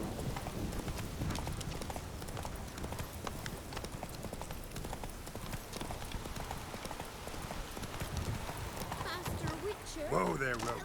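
The horse Roach gallops in the Witcher 3 video game, a steady run of hoofbeats under game ambience and spoken dialogue.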